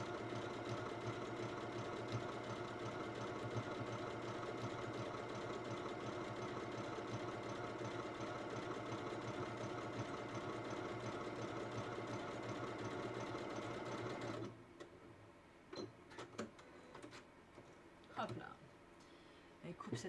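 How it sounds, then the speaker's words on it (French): A sewing machine stitching a triple stitch on a garment runs as a steady, loud mechanical hum for about fourteen seconds, then stops, leaving quiet handling noises. "Le bruit de la machine n'est pas trop désagréable."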